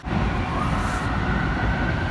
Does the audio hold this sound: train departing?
yes